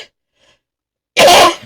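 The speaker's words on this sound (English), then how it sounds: "Ooh, that cough is horrible." One sudden, loud, explosive cough up close after near silence, sharp and harsh, lasting about half a second.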